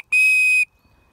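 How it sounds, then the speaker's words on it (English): A dog recall training whistle blown once outdoors in a single loud, steady high-pitched blast lasting about half a second, then quiet. "So we'll whistle."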